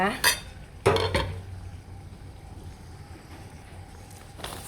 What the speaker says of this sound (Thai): เราก็ เปิดฝา